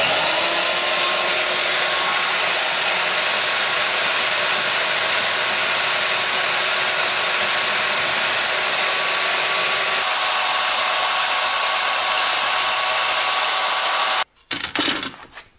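A power tool cuts the protruding nipples off aluminum heat sinks for a lithium battery, giving a steady, loud, high whine and grinding hiss that runs continuously before stopping abruptly, followed by brief clatter.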